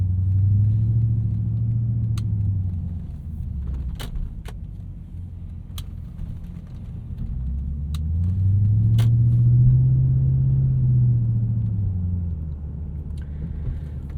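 A 1998 Lexus GS 400 V8 with a Megan catback exhaust rumbles at idle, with deep low droning that swells into two slow revs and settles back, plus a few small metallic clicks and jingles nearby.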